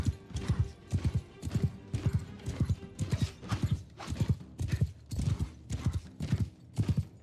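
Horse hooves gallop in a steady, even rhythm in a fantasy battle video game with the Old Realms mod, about three beats per second, close and clear with no talking over them.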